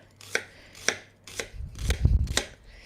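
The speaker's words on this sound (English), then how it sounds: "So that's why I'm slicing. And I will be adding some garlic" A knife slices garlic on a cutting board, five evenly spaced crisp taps close by, with a low rumbling thud under the fourth cut.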